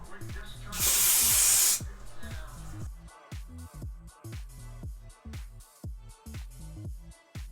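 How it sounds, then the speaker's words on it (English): A single sharp burst of hair product sprayed from an aerosol can onto a synthetic wig hisses for under a second, loud and close, against a rhythmic music beat. "So I'm gonna go ahead and spray this on here."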